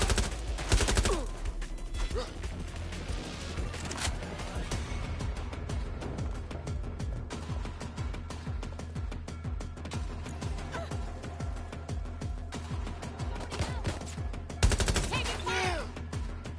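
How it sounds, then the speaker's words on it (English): Near-continuous automatic gunfire in Watch Dogs Legion, a dense stream of rapid shots with louder bursts at the start and near the end, and faint voices underneath. "Shots fired!"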